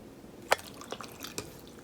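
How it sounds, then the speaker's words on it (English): A little water poured into a blender jar holding avocado, mint and powdered sugar for lassi: a few quiet, separate drips and splashes, close but faint, with no talking. "Also gonna add just a little bit water."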